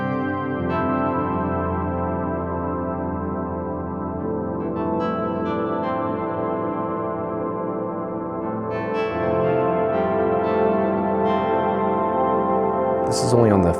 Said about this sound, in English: the effects on this synth are studio quality. I mean, they are absolutely fantastic, and this reverb is certainly part of that.